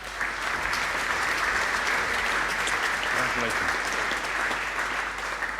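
Steady applause from a graduation ceremony audience at the University of Manchester fills the hall continuously, with a voice briefly speaking over the clapping.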